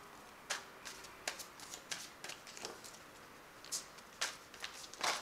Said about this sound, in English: Just give it a shuffle.